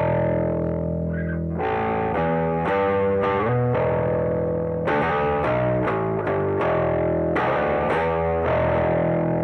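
Metal bass guitar played through a pedalboard preamp with a slight gritty distortion, a run of sustained notes and quick riffs with chorus-like shimmer, loud and close with no talking.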